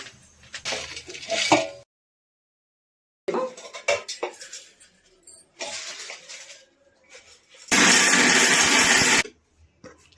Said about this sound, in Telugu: చల్లారిన తర్వాత మిక్సీ పట్టడమే ఇంకా